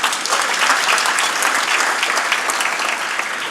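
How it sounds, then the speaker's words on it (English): An audience claps loudly and continuously at a 2025 State of the City speech in Bakersfield, California, a dense, even roar of hands with no voices on top. "You can clap for that too."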